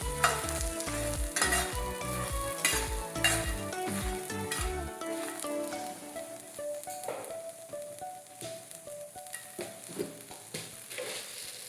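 Garlic frying in hot oil in a pan, a steady bright sizzle under repeated scraping stirs at the start, then continuous frying hiss for the rest, up close.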